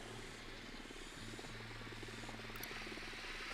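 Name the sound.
drone flying in Ghost Recon Wildlands video game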